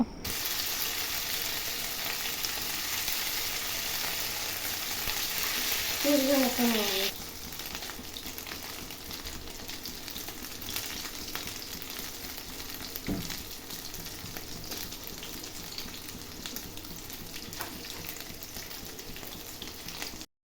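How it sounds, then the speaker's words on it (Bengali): Egg and potato pieces fry in oil over a medium flame, a loud, dense sizzle for the first seven seconds that drops to a steadier, softer crackle with a few faint clinks. "তেল দিয়ে দিচ্ছি, দিয়ে এগুলোকে ভালোভাবে আমরা একটু ভেজে নেব"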